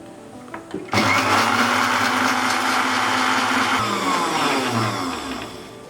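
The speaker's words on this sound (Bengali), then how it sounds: "তেল দেওয়ার পরে আবারও এক মিনিট সময় নিয়ে ব্লেন্ড করতে হবে" A blender starts abruptly and runs loud and steady, whirring as oil is mixed into homemade mayonnaise, its motor pitch shifting slightly as the mixture thickens, with no talking over it.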